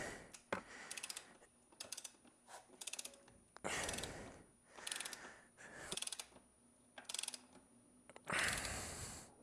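Ratcheting wrench tightening a motorcycle chain adjuster, short bursts of rapid clicking separated by pauses, close and faint.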